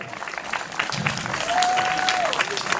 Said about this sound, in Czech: Děkujeme, poprosím o potlesk.